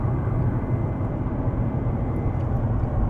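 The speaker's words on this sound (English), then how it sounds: "A really heavy plane against a really heavy plane." British Tornado jet engine roars in the video game War Thunder, a steady, dense, loud low rumble with no break and no talking.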